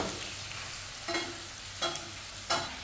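Food fries in a pan, a soft continuous sizzle broken by three scraping stirs spaced roughly evenly, close and moderately quiet.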